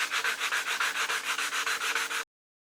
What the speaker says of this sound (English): you are going to need to sand this down until the imperfection's gone, and then do the entire panel.